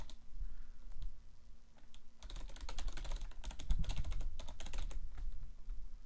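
Typing on a computer keyboard: a quick burst of close, crisp key clicks in irregular rhythm, with quieter isolated taps before and after.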